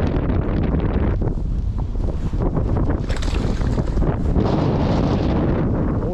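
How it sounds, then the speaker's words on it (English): Strong wind blowing on a lake during a fishing outing, a loud, continuous rumbling roar that buffets the microphone with no break and no speech. "the wind's blowing like crazy."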